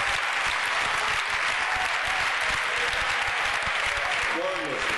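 A church congregation applauding and cheering during a French-language worship service, with loud, sustained clapping and raised voices blending into a constant roar throughout.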